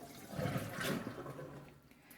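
Tap water runs over strained milk curds in a soft, continuous splashing gush, fairly faint and close, with no voices.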